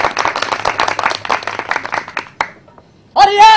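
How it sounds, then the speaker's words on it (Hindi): Applause from a theatre audience at a stage play, a dense burst of clapping that thins out and stops, followed by a pause and then a loud voice. "तालियां भाई तालियां"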